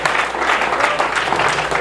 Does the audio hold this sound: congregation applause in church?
yes